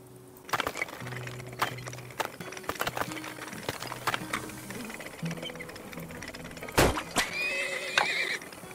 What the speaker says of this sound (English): One horse.